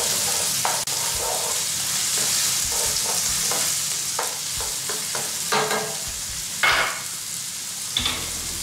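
Carrots stir-fried in a pan for a teriyaki dish: a steady sizzle runs throughout, broken by repeated scrapes and clacks of a utensil against the pan, close and fairly loud, with no talking.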